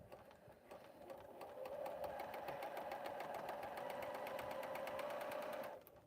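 A sewing machine chain-pieces quilt blocks in a steady, fast mechanical whir with rapid needle clatter that rises in after a second and runs for about four seconds before stopping, faint and close.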